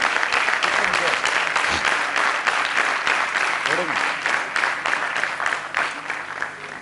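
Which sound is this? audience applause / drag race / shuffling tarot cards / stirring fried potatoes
audience applause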